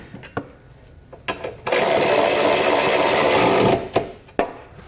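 A power tool spins a 19mm socket to tighten the bolts of a Curt trailer hitch receiver on a 2015 Ford Flex: one steady, loud whir of about two seconds, with scattered clanks and taps of hardware before and after.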